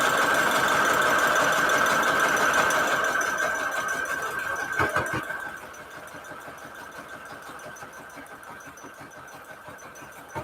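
A sewing machine stitches a patchwork fabric cover for a Valentine's Day junk journal, running fast and loud for several seconds, then slowing into a softer, rhythmic chatter of individual stitches.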